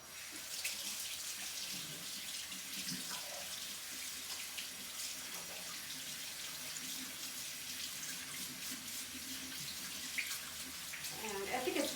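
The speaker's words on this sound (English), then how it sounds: "I need to wash my hands first, so I am sorry you're gonna hear the water" Tap water runs steadily into a sink as hands are washed, a continuous close splashing hiss lasting throughout, with faint background voice sounds.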